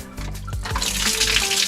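Water pours steadily from a bamboo shower spout in a jungle bathroom, a close, even splashing stream with no break and no voices.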